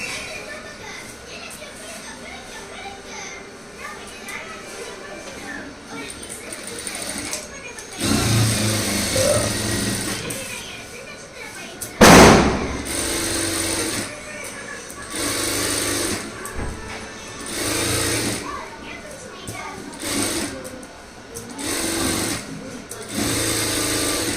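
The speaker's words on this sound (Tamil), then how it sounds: "ஸ்லீவில் சுற்றிக்கு நம்ம தையல் போட்டுக்கலாம்" An Aari work sewing machine runs steadily, stitching around a sleeve, its motor whirring in sustained bursts with brief pauses and one sharp louder knock midway, while a voice talks over it.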